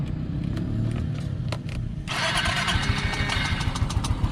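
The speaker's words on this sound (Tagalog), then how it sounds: "try natin yan paandarin start na" A Yamaha Mio i scooter with a newly replaced spark plug cranks with a few ticking clicks, then fires up about halfway through into a loud, brisk, close idle that settles into a steady putter.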